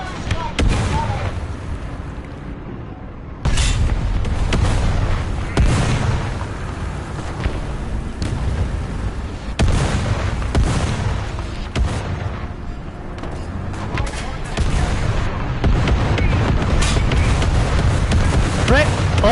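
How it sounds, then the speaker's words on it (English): An artillery strike in the War Thunder tank game, with heavy booming explosions repeating over many seconds amid loud rumbling battle noise and a voice calling out. "Artillery strike incoming!"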